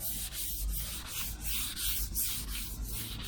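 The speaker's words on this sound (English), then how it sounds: "So we're just gonna go over this whole panel and sand it all." Steady back-and-forth sanding scuffs a busted fiberglass panel on a 1994 GMC Stepside pickup, rhythmic abrasive strokes close and loud with no voices.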